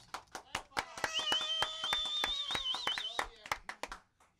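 A small audience at a live studio session claps in sparse, uneven bursts of separate hand claps, fairly faint, while a sustained tonal voice or whistle rises over the middle of the claps.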